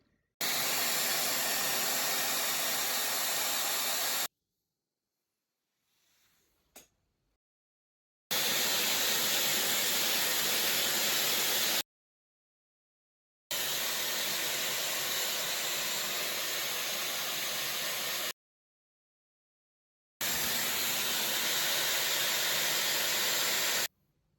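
A Dyson Airwrap hair styler blows a steady, loud hissing rush of air while curling hair, in four long bursts separated by silent gaps, with one short faint knock in the first gap.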